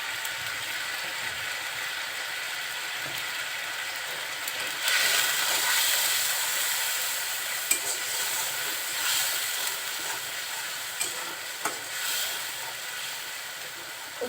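Spices and tripe frying in oil while being stirred, a steady hiss with a few faint scrapes and clicks, fairly quiet and without talking.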